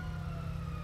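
A police car siren in the video game GTA 5, a faint, steady electronic wail with a low engine hum beneath, no voices.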